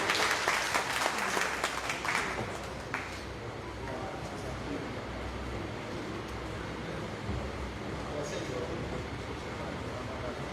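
Audience at a trekkers' meet-up in Burewala breaks into applause, loud clapping at first that settles into a steady, lighter patter.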